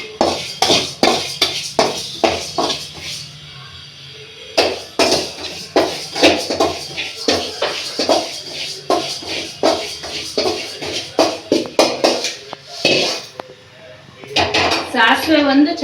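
Urad dal being stirred and roasted in a metal pan for sambar powder, with repeated scraping and clinking of a spoon against the pan in an irregular rhythm, close and clear, while a person talks.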